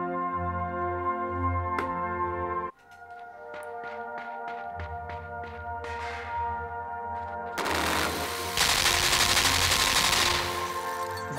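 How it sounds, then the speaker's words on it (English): Rapid bursts of machine-gun fire in the dark puzzle platformer Limbo, a run of evenly spaced sharp shots that grows into a dense, loud barrage, over a sustained tonal musical drone with no talk. "Why is there a machine gun here?"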